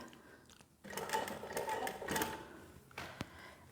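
An industrial walking-foot sewing machine, model 1903SX, sews through four stacked layers of vinyl, a short close burst of heavy rhythmic thumping and motor whine, followed by a sharp knock as it stops.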